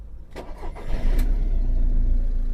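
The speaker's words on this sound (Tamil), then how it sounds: "இன்ஜின் ஸ்டார்ட் பண்ணிக்கலாம்." A 2013 Volkswagen Vento 1.6 TDI diesel engine with 108,000 km cranks over briefly with a few quick turns, then catches and settles into a steady, low rumble.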